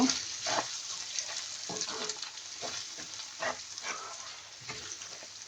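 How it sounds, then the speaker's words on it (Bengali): Ground spices, including coriander powder and salt, fry steadily in a pan over medium-low heat for a beef brain masala. A continuous close sizzle runs throughout, broken by repeated scraping strokes of stirring. "চুলার জালটা মিডিয়াম টু লোতে রেখে ভাজতেছি, যেন মশলাটা না পুড়ে যায়।"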